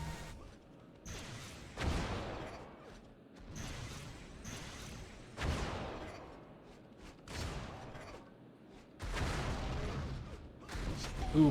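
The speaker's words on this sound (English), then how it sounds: "Ooh, close range rockets." Repeated close-range rocket blasts in a fast arena shooter video game, several loud booming bursts every couple of seconds with crackling debris tails.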